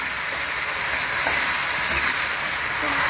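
Chopped tomatoes frying with onion, ginger and garlic in a pan, a steady bright sizzle with occasional stirring scrapes, close and continuous, no talking.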